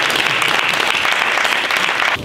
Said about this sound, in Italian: Quindi facciamogli un applauso.